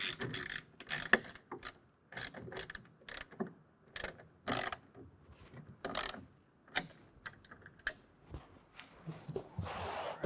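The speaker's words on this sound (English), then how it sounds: "on the bottom, a 7/16 wrench or ratchet. We can go ahead and tighten it down." A 7/16 ratchet cranks down the bottom clamp bolts of a Truxedo Pro X15 soft roll-up tonneau cover on a 2024 Jeep Gladiator bed, giving bursts of close, sharp clicking separated by short pauses, with a brief rustle near the end.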